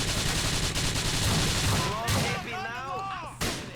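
Rapid bursts of gunfire fill a Grand Theft Auto IV shootout with police: dense, loud volleys for about two seconds that thin into scattered shots, with a voice partly audible beneath the shooting.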